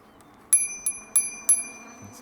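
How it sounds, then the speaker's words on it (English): A bicycle bell on a VanPowers UrbanGlide Pro electric bike rings four times in quick bright dings, close and clear, during a ride past people strolling. "This bell is really coming in handy here."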